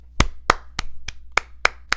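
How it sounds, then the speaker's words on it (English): A hot girl clap drum kit sample, seven crisp, dry claps fired in a steady, even rhythm, loud and isolated with nothing else playing. "this is what the hot girl clap sounds like"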